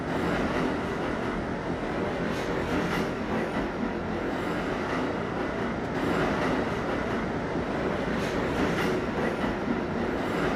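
A D Express subway train runs along the line with a steady, loud rumble and clickety-clack from the wheels, continuous throughout with no voices.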